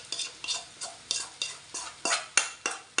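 A spoon stirs roasted coconut spice paste into Kerala-style beef curry frying in a pan, with steady scraping strokes about every quarter second over a soft sizzle, close and moderately loud.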